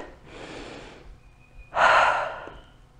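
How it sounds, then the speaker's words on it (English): A deep breath in a low-impact standing strength workout session: a soft airy inhale followed by a louder, fuller exhale, close and alone with no talking. "Let's take a breath."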